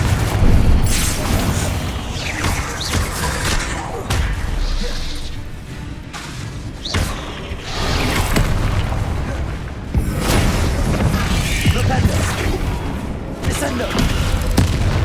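Confringo spells burst during a fight in the game Hogwarts Legacy, with repeated booming blasts and crashes over busy combat noise and voices.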